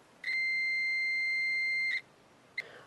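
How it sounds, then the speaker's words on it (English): A multimeter set to continuity gives one steady high-pitched electronic beep lasting about two seconds, close and clear, followed by a brief click. "I have this meter set to the continuity setting, and this is what you'll hear."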